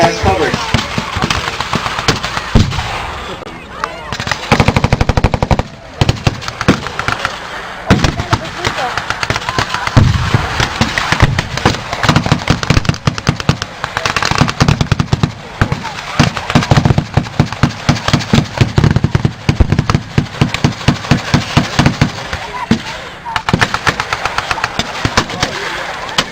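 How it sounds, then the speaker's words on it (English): Loud, rapid bursts of blank gunfire crackle almost without pause at a World War 2 battle reenactment at Midway Village, with heavier booms mixed in and an engine rumbling beneath, while someone narrates over the noise. "Artillery pieces on the German side are still operational"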